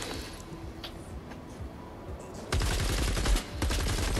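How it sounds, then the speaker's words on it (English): Assault rifle fire in the video game Fortnite: after a quieter stretch, a sudden dense, loud stream of rapid automatic shots continues to the end. "The assault rifle."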